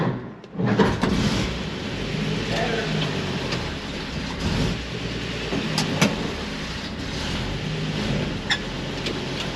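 A 1947 Ford pickup truck idles just after its first start, a rough, uneven engine rumble with occasional knocks and clatters, while people talk nearby.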